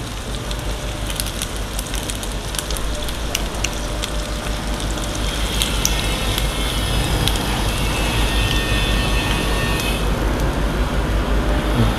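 Beaten egg mixture hits a hot pan over low to medium flame while making macaroni, a steady dense sizzle and crackle lasting throughout, close and even in level.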